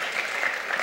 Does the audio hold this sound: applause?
yes